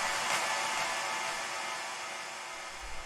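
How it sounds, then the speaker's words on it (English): A techno production clap sample drenched in delay and long reverb, heard as a dense wash of bright hissing noise that holds steady and slowly thins out, with no voices. "So the next thing that we have here is this first clap,"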